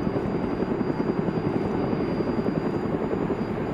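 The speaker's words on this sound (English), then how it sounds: "You guys hear that? It's the choppers." A helicopter in the video game DayZ flies overhead, its rotor thumping steadily with a rapid chopping pulse and a constant engine whine, loud and continuous throughout.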